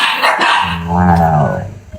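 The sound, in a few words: dog barking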